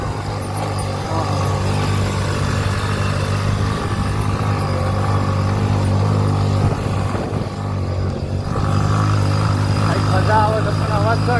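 A motorcycle engine drones steadily at mid pitch while climbing a hill, labouring and rising slightly toward the end, close and loud, with faint voices mixed in.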